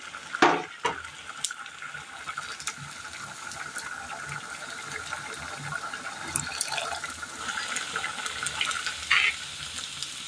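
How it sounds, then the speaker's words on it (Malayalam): Tamarind water is poured into a simmering Kerala curry spiced with chili and turmeric powder, giving a soft, continuous watery bubbling with a sharper splash near the start and small clinks over the low simmer. "അല്പം വാളംപുളി പിഴിഞ്ഞ വെള്ളം കൂടി ഒഴിച്ചു കൊടുക്കാം"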